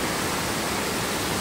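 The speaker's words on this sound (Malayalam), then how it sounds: "അങ്ങകലെ ആ കാണുന്നതാണ് വെള്ളച്ചാട്ടം." Steady, broadband rushing roar of the Njandirukki waterfall at Poomala, heard from below the falls at a distance, continuous and even with no voices.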